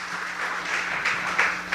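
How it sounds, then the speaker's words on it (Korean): An audience claps in applause during a church festival worship service: a soft, steady patter of many hands, fairly faint and distant, swelling in a few brief bursts. "바라보시면서 박수를 보내세요."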